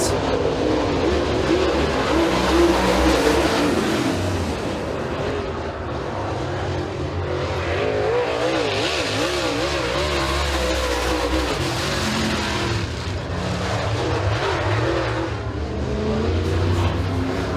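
A Super Late Model race car on a qualifying lap at Eriez Speedway, its engine roaring loud and steady throughout, rising and falling as it works around the oval track.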